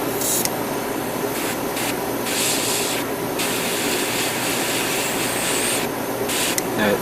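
Aerosol spray paint hisses in several short, close bursts onto a Gundam model part, each pass a loud airy spray broken by brief pauses.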